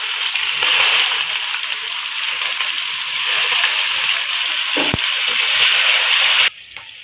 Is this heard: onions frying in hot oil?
yes